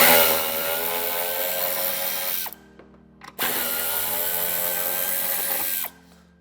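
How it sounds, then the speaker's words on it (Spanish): A power tool whirs loudly and steadily while loosening exterior screws on the bumper trim of a 2020 BMW iX3 G08, stopping for about a second with small clicks, then running again before cutting off. "aflojaremos los tornillos de la parte exterior"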